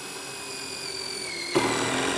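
A power drill drives a Trex fastener system plug screw into a solid-profile decking board, a steady close whirring hum for about a second and a half before a sudden rougher, louder grinding burst as the bit cams out.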